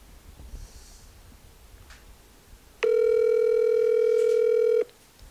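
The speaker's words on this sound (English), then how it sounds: "phone is ringing" A phone call's ringing tone sounds as one steady, loud electronic tone lasting about two seconds, following a quiet stretch with faint breathing nearby.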